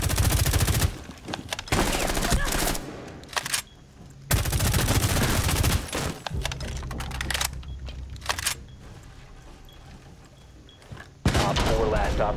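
Gunfire bursts in Rainbow Six Siege during a Bank team deathmatch, with loud rapid machine-gun volleys cut by brief silent gaps, plus a talking voice mixed in among the shots.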